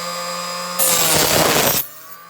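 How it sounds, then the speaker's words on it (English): A small hand saw makes one brief, close, rasping burst of cutting that lasts about a second and stops abruptly against a quiet background. "Nice little saw, and then I'm gonna saw right here so you can see what I'm gonna cut."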